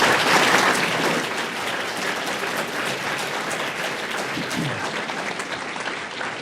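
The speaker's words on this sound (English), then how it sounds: "How about a round of applause for our students?" A crowd applauds students at a school committee meeting in City Hall, loud steady clapping from many hands that eases slightly toward the end, with a few faint voices underneath.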